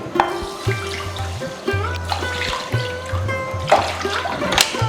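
Water pours steadily into a pan holding a cup of sugar, the start of syrup for rasmalai. The liquid runs close and moderately loud for a few seconds, with a rhythmic low background.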